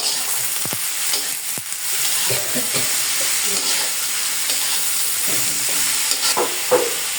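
Bitter gourd slices frying in hot oil with salt added, a steady close sizzle broken by repeated scraping and stirring strokes of a spatula in the pan, no one speaking.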